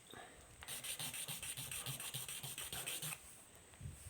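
An eyeglass lens is rubbed back and forth on a whetstone, giving quick, regular gritty scraping strokes, close and fairly soft, in a steady rhythm of about four strokes per second before pausing.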